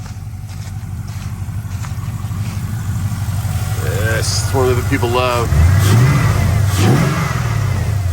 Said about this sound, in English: Let's give this one a couple revs on the old drive-by cable